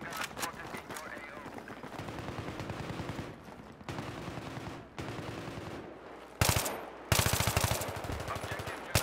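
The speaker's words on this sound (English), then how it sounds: "Enemy machine gun spotted in your AO." Enemy machine gun fire in the video game Global Conflict, rapid repeated bursts of automatic shots, some close and loud, with brief pauses between volleys.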